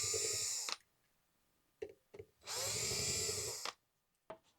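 A power drill spins out screws from a ceiling fan motor in two loud whirring bursts, each under a second long, separated by quiet pauses and a few small clicks, with no one speaking.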